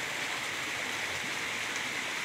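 Village river flowing on the slope of Mount Lawu near Brubuh, a steady broadband rush of water, close and continuous with no voices.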